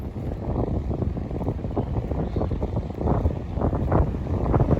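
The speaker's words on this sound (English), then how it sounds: "The irony that it's really rather windy today is not lost on me" Wind gusts across a sailing boat on a blustery day, a steady close rumbling buffet that swells and eases, with no voices.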